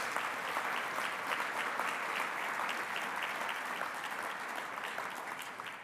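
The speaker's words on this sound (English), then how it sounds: "Let's give them all a big round of applause." Steady, sustained applause from an audience at the BBB Torch Awards ceremony for Chicago and Northern Illinois, honoring the award winners, dense and even throughout, with no voices.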